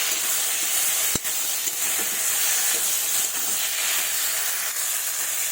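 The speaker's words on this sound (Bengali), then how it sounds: "দিয়ে আবারও ভালোভাবে নেড়ে চেড়ে কষিয়ে নেব।" Potato and cauliflower stir-fried in oil for a fish curry, giving a steady broad hiss of frying that runs unbroken throughout, with one sharp click near the start and no talk.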